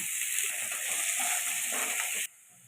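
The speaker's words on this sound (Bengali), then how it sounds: "পেঁয়াজগুলো ভালো করে ভেজে নেব" Thinly sliced onions sizzle steadily in hot oil in a pan, a loud, even hiss that runs for about two seconds and then drops off sharply to a quiet background.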